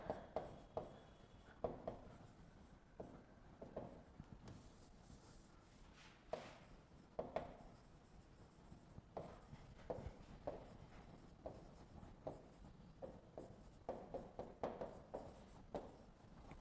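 A pen writing notes on paper at a desk, heard as close, quiet, steady scratching strokes with regular short taps as words and lines are formed, with no talking.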